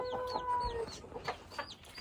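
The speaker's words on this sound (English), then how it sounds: "Beware of the chickens." Chickens clucking close by, a series of short chirpy clucks and peeps from several birds alongside a faint steady tone in the background.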